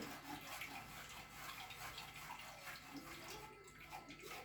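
Freshly blended carrot and cucumber juice pouring out in a continuous soft watery stream, faint and close, with no talking.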